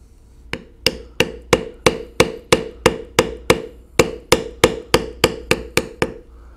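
A mallet strikes a figure-carving beveler into leather being tooled into a tiger's head, about sixteen crisp, evenly spaced taps close to the microphone with no talking.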